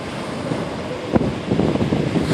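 Sea waves surge against the shore at Mukalla, a loud, close wash of surf with wind buffeting the microphone and a swelling rush building toward the end.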